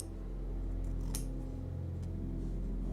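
Scissors snip at the fabric corners of a sewn collar for a nautical dress, one or two sharp close cuts over a low steady room hum.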